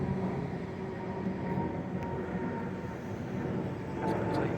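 A train pulls away toward the depot with a low, continuous rumble of rolling wheels and motors that holds steady throughout at moderate distance, with a few faint high squeals over it.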